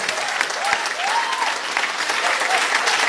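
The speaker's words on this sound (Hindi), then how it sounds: "जो हमारे महागुरु रोशन सर के लिए जबरदस्त ताली होना चाहिए।" An audience at a training meeting breaks into steady, dense applause that continues throughout at a fairly loud level, with a brief voice rising faintly under it.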